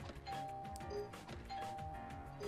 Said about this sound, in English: That means we're done ringing that doorbell enough times.